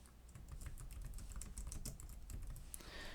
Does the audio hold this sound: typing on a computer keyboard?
yes